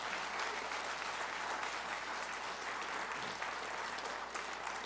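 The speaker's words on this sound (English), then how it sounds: "Let's give them a big round of applause." An audience at a closing session honoring George P. Shultz gives a big round of applause, a thick, even roar of clapping hands that holds steady from start to finish with no talking.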